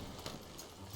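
Horse hooves in Red Dead Redemption 2 clop softly and steadily at a walk, faint and distant over a low ambient bed, with no talking.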